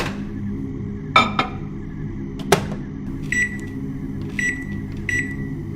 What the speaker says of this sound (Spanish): Escuché el bip de siempre, el giro del plato, el clic de cuando se abre la puerta.